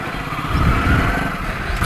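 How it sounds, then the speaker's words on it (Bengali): A 16-year-old Hero Splendor Plus motorcycle engine runs steadily while being ridden, a close, even, low rumble with no voices. "তো চলো দেরি না করে বাইকটাকে একটু রাইড করা যাক"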